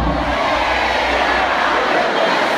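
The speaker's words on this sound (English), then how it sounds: "This is the loudest crowd I've ever heard in my life." A huge concert crowd roars and cheers loudly and steadily throughout at a performance of a medley of hits, forming a dense, continuous wall of sound.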